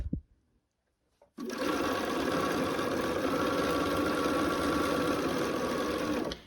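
A sewing machine is stitching quilt blocks with its presser foot down. It comes in after a short quiet lead-in and then runs at an even, steady speed, humming and whirring for about five seconds before stopping.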